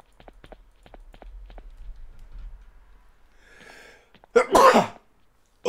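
A single loud, explosive human sneeze bursts out near the end, after a few seconds of quiet shuffling and soft clicks, up close during a Minecraft gaming session.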